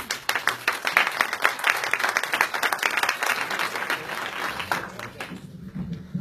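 A welcoming audience at a formal gender-equality event gives a burst of loud, dense applause that holds steady for about five seconds and then fades out.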